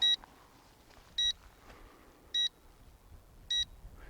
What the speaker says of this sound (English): So it starts beeping.